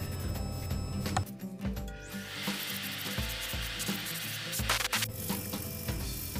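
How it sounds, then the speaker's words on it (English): Steady abrasive rubbing of sandpaper against a spalted ash wooden bowl, continuous and close, with small shifts in pressure and a few brief scrapes. "Here I'm sanding the bowl."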